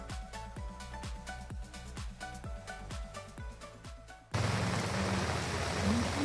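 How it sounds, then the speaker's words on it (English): A steady patter of rain falls in Da Nang or Hoi An, Vietnam, at first broken by sharp rhythmic clicks and then giving way to a dense, even hiss of heavier rain, close and fairly soft. "the rain is not letting up"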